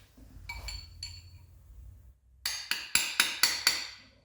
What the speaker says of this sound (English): So just use a socket extension and tap around.